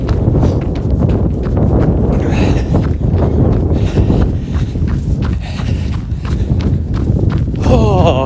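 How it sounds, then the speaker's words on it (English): Cold wind roars steadily across the microphone during a run through snow squalls, a dense, unbroken rush with footfalls thudding rhythmically underneath. "it's crazy how cold that wind can get"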